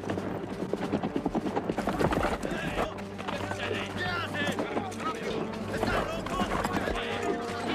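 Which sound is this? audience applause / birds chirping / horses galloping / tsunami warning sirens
horses galloping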